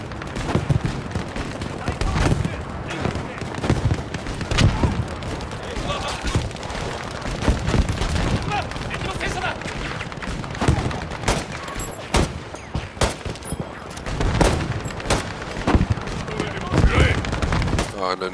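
Rapid bursts of gunfire and sharp shots from a World War II shooter game set in the Pacific fill the scene, dense and continuous, with someone talking over the chaotic firing.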